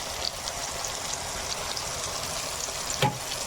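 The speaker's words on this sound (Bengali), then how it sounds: "ভালো করে ভেজে নেবো মশলাটাকে।" Spice masala of Kashmiri chilli, coriander and cumin powder frying in a pan for chicken liver curry, a steady close sizzle with faint crackle and a brief stir near the end.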